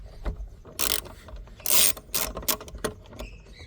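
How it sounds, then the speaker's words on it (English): A 12mm socket ratchet clicks in short bursts while loosening the bolts of a rear seat cushion on a sixth-generation Subaru Outback, loud and close, with brief pauses between the pulls. "12mm socket set does a trick."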